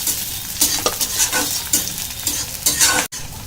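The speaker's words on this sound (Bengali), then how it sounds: "পেঁয়াজগুলো তেলের মধ্যে দিয়ে দেবো। আর কিছুটা রসুন" Onions and garlic fry in oil with a close sizzle, while a spatula stirs them in repeated scraping strokes that come in loose, irregular bursts.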